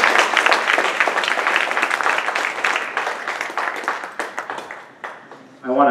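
Audience at a 2018 overdevelopment forum hosted by a council member gives him a round of applause, full and steady at first, then thinning into scattered claps before a voice speaks at the very end.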